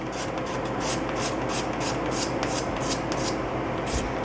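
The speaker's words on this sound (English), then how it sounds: "I'm basically block sanding the run with the razor blade" A razor blade scrapes a paint run on the body of a 1974 Chevy Nova, a steady series of rhythmic raspy strokes about ten in four seconds, close and fairly quiet with no talk.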